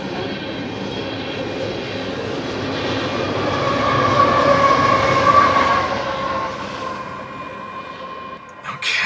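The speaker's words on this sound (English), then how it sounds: "That's a pretty long train." A long freight train rumbles past, its broad steady roar swelling to a peak midway and slowly easing off, with no talk over it.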